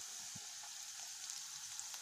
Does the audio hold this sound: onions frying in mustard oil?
yes